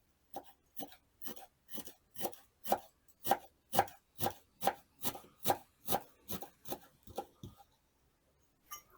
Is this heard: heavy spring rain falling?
no